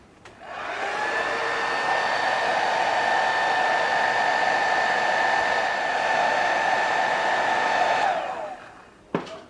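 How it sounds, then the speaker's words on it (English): Hair dryer blowing steadily to dry paint on a model building for a diorama, one continuous loud close whoosh of about eight seconds that starts and stops cleanly, with no talk. "we'll hair dry that off to see how it looks when it's dry"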